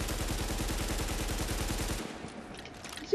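Assault rifle gunfire in Tom Clancy's The Division, a rapid automatic burst of loud, tightly spaced shots lasting about two seconds, then stopping into quieter background noise.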